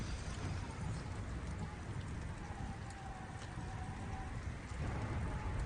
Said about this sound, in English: Oh, it's like hailing.